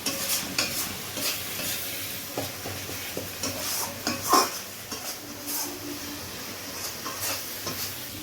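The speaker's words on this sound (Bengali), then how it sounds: "গ্যাসের এই হাই ফ্লেমে যখন কিন্তু মশলাটা কষা হবে কিন্তু মানে ভালোভাবে কষতে হবে" Spice paste for a prawn curry being stir-fried over a high gas flame: a spatula scrapes and knocks against the pan in irregular strokes over a steady hissing sizzle.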